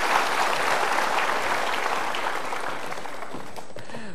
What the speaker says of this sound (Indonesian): Yuk kita berikan tepuk tangan untuk mereka.